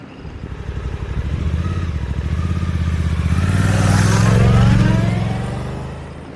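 A Suzuki V-Strom 800DE adventure motorcycle accelerates, its engine note swelling from a low rumble to a loud, rising roar that peaks and then eases off, heard alone.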